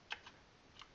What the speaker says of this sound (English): type in a name